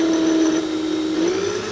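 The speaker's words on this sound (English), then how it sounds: "Notice I'm also doing this with a hand drill." Hand drill with a TTP bit boring into hard spring steel, a loud steady motor whine with a strong sustained tone, close and continuous throughout.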